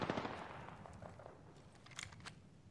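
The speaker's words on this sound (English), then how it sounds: "Oh shoot, gunshots." Gunfire crackles nearby in Apex Legends, a short rapid burst of shots followed by a few scattered sharper cracks, fairly faint overall.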